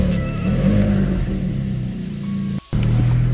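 A Volkswagen Polo TSI with a sport exhaust and sport air filter gives a deep, steady engine roar from inside the car, with a brief cut near the end before the rumble resumes.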